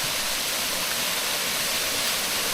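A river running very high near Big Bend Tunnel rushes in a loud, dense, unbroken roar from close by, with no other sounds standing out.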